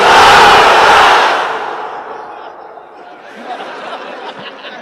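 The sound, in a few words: unmarried men of a crowd shouting the chant 'Lillahi Takbir'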